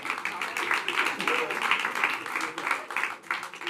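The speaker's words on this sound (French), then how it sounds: "On applaudit Marwan et Roman, s'il vous plaît." A crowd at a comedy show claps for two volunteers brought on stage, a sustained wash of applause that swells and dips, with a performer's voice faintly audible under it.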